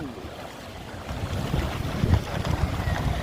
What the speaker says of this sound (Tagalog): Makusog ng alon, makusog.